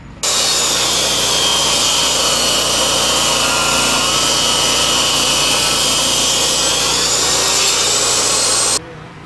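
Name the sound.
table saw cutting wooden blocks at an angle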